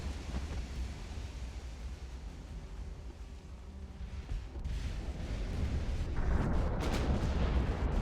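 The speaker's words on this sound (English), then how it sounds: "Yep, she just took a torpedo" A torpedo strikes a warship in Ultimate Admiral: Dreadnoughts as a low, rumbling blast that swells into a broad roaring explosion with crackling debris toward the end, fairly quiet overall and with no talking.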